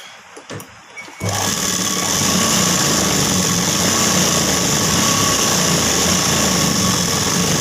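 An electric sewing machine stitches a blouse lining, starting after a brief quiet moment and then running in a steady, continuous, close-up whir for the rest of the clip with no pauses.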